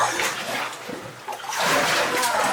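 Feet wading and splashing through water in a flooded former Soviet underground tunnel in Kiev, close sloshing surges over a couple of seconds.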